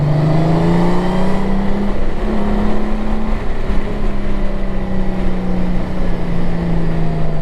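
A Honda Goldwing motorcycle's engine hums steadily under engine braking while riding along a road, a loud, continuous drone whose pitch slowly rises and falls amid strong wind rush.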